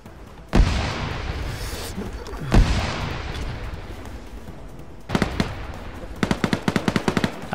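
Two heavy grenade blasts in ArmA 3 boom loud and close with long rumbling decay, followed by rapid bursts of automatic gunfire crackling in quick rhythmic volleys.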